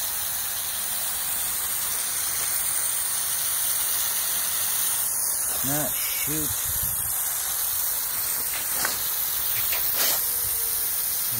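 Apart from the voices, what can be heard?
lawn sprinklers spraying water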